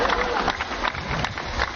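A church audience applauds during a sermon by the Bishop of Amboina, a brief burst of clapping that is dense and moderately loud, mixed with crowd noise and a voice talking.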